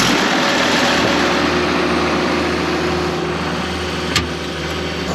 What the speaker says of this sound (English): This is the irrigation motor.